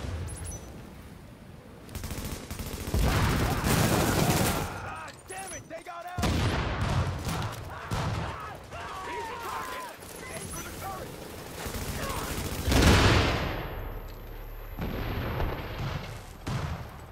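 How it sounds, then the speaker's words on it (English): Heavy gunfire in The Division erupts in dense bursts of automatic rifle fire and booming shots, loud and close, with shouted voices between the volleys. "Heavy fire."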